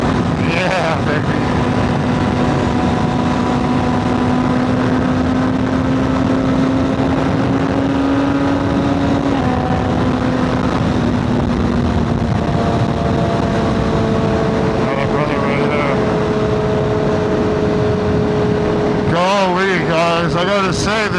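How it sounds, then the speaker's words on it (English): Close, loud engine drone from a 2025 BMW S1000RR with a new Arrow exhaust holds a steady pitch, shifts a couple of times, then eases off near the end, with heavy wind noise throughout. "I gotta say, the new exhaust is making me love this bike even more."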